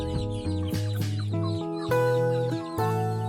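Several chickens, mostly young roosters, cluck close and clearly in short repeated bursts, with brief pauses between calls and no talking.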